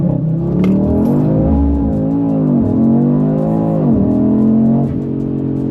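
Audi RS3 with a Milltek exhaust launching with wheelspin, the engine note climbing loudly through rising sweeps with brief dips at shifts, heard from inside the car with no talk.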